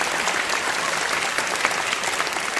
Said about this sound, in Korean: 우리 박수 한번 큰 박수 한번 해주세요.